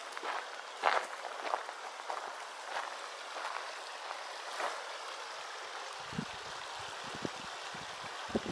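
Big Arroyo Creek in the High Sierra flows near a backcountry campsite, a steady, soft rushing of water with scattered splashy accents, moderately distant and unbroken throughout.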